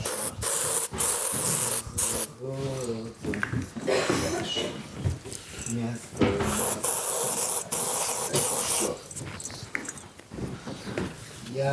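Several short bursts of Tom Ford perfume sprayed from a bottle close by, each a quick airy hiss separated by pauses, with people talking in between.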